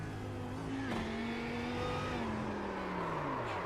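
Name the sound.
Lamborghini GT3 race car engine in sim racing video game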